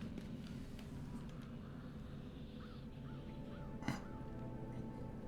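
A crow caws a few times at moderate distance in Dreamfall: The Longest Journey, set over a steady ambient game background hum with no talking.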